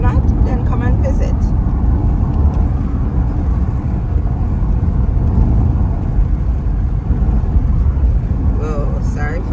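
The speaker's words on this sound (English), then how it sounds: "sorry for the bumpy ride. The driver is driving like a maniac." Car interior on a fast, bumpy ride through St. Elizabeth, Jamaica: loud continuous road and engine rumble with jolting thumps, and people talking over it.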